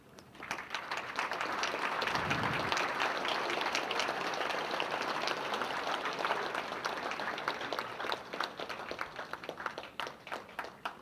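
A banquet crowd at a sports hall of fame enshrinement dinner breaks into sustained applause, many hands clapping together for about ten seconds in a large room before the clapping begins to thin out.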